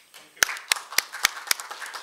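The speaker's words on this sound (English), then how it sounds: "Another applause, please." A few sharp, evenly spaced handclaps ring out at a conference, thin and sparse rather than a full crowd, with faint background murmur.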